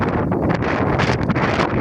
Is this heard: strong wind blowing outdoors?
yes